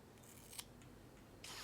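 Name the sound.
scissors cutting hair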